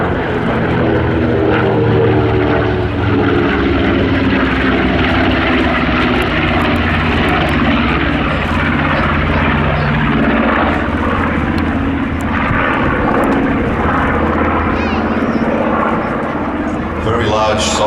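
Red Bull's Flying Bulls propeller aircraft, a North American B-25 medium bomber or Douglas DC-6, drones loudly and steadily overhead at the Midlands Air Festival, engine roar sustained throughout with faint crowd speech mixed in.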